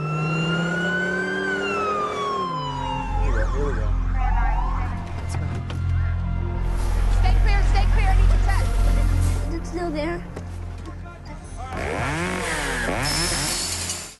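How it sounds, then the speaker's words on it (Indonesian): An ambulance siren wails, rising and falling loudly over downtown Los Angeles traffic noise on the way to an accident, with voices talking and shouting partway through. "seorang pria yang bernama Scott sedang mengendarai sebuah mobil ambulan menuju tempat terjadinya kecelakaan di tengah pusat kota Los Angeles."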